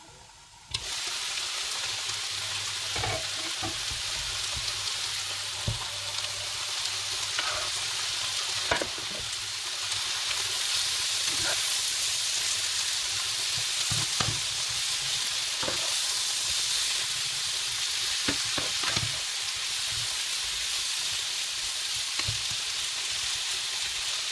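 Peppers fry in a hot pan with a steady, loud sizzle that runs the whole way through. Occasional stirring clicks and scrapes cut in, and no one speaks.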